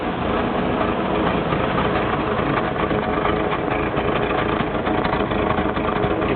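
Engine of a 1987 Toyota Land Cruiser FJ60 idles at the exhaust, a steady close rumble with a fast, even mechanical patter that holds constant throughout with no voices.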